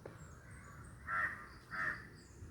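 Two sharp crow caws ring out close by, spaced less than a second apart over quiet outdoor background.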